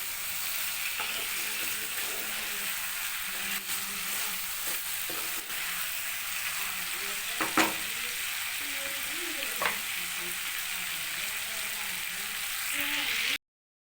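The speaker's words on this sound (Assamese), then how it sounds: "আমি ভালকৈ লৰাই দিম।" Chicken pieces sizzle steadily in an oiled pan while a spatula stirs them, occasional knocks and scrapes rising over the continuous close hiss.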